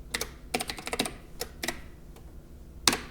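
Quick bursts of keystrokes on a computer keyboard, irregular clusters of crisp taps with short pauses between them, close and clear with no talk.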